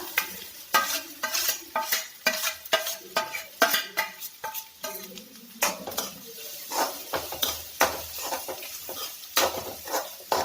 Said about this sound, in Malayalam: നന്നായിട്ട് ആ ചുണ്ടൊന്ന് നമുക്ക് ആ എണ്ണയിലിട്ട് വഴറ്റിയെടുക്കാം.